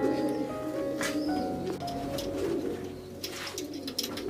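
Pigeons coo softly and repeatedly at a loft of racing pigeons, with faint wing flutters and light background noise.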